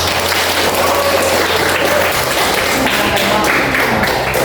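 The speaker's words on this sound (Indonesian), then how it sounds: "Tepuk tangan untuk mereka." A seated audience claps for group 2 after their class presentation. The applause is close, dense and continuous, with faint voices mixed in throughout.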